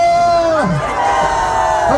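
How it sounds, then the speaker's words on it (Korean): A crowd cheers loudly at the close of a Korean political party's press conference, with close, overlapping raised voices whooping and shouting throughout. "박수 감사합니다"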